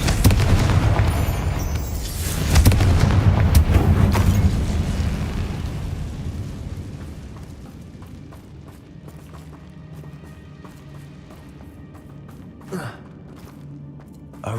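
A Confringo fire spell explodes in the video game Hogwarts Legacy, a loud booming burst with rumbling debris that fades into quieter game ambience, followed later by a brief sharp impact.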